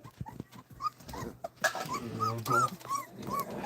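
Female dogs growling and whimpering up close, a string of short low growls, whines and yips in an irregular rhythm, with no talking.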